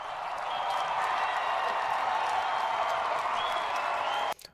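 A large crowd at a political speech cheers and applauds in a loud, dense wash of clapping and shouts that holds steady, then cuts off abruptly at the end.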